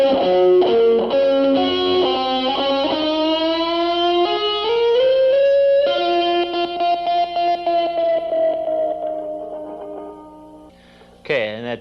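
Distorted electric guitar lick played slowly, a series of sustained bending notes with heavy effects, ending on a long held note, then a brief sharp burst at the very end.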